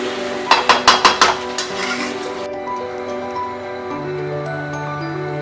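Chicken kosha in a pot on the stove, then covered and lifted off: a quick run of six sharp metallic clinks and taps, followed by a low steady hum and faint sizzle.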